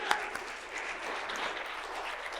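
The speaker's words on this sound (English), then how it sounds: "Can we just give a round of applause for Drake?" A church congregation claps for Pastor Drake during a Sunday morning service, a soft, steady wash of applause heard from a distance, fairly faint and even throughout.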